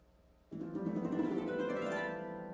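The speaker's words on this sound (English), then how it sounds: "the oboe flux is a glissando that's played close to the soundboard" A flux sheet bent in a glissando close to the soundboard, the oboe-like flux timbre, enters abruptly and sustains as a buzzy, reedy tone that slides in pitch, near and moderately loud, with no talking.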